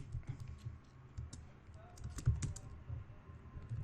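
Soft typing on a computer keyboard while writing Python code, faint irregular key clicks with a slightly louder tap near the middle, under a quiet room background.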